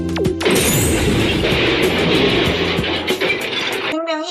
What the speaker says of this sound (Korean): 깨지는 효과음을 내줍니다.